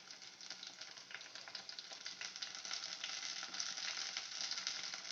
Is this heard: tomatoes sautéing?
yes